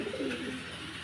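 Domestic pigeons in a home loft give a soft, low, rolling coo, one brief call heard close and alone.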